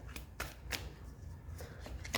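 Tarot cards handled during a reading, with several soft, crisp flicks and slaps spaced irregularly, quiet and close, with no talking.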